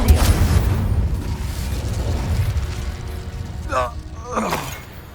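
An Incendio fire spell in the Hogwarts Legacy video game erupts with a deep booming blast and crackling burst that rumbles on and slowly fades, with brief voice sounds near the end.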